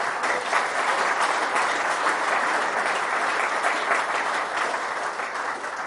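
Sustained audience applause at a Bruges Group meeting, a full room clapping loudly and evenly for several seconds with no break and no speech over it.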